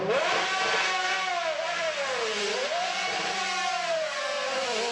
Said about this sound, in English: I love the sound of Lambos too.